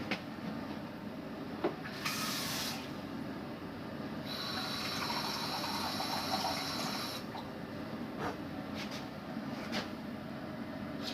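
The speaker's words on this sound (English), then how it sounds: "we're going to add water so that it's covering the bottom of the pan to get steam" Water rushes and hisses into a hot pan of sausages, a steady sizzling spray with a couple of louder bursts, no one talking.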